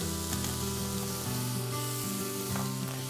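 Cauliflower lentil fried rice with kale and garlic crackles in a hot pan, a soft, continuous sizzle with low-level music playing underneath.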